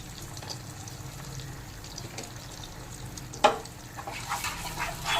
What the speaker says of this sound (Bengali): এবার নেড়ে একটু মশলাটা কষে নেব।